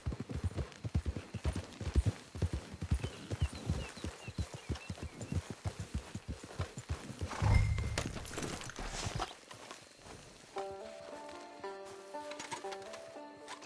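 Horse hooves clop at a steady walking rhythm in the Red Dead Redemption 2 game, close and regular for several seconds before fading out under a soft musical tone.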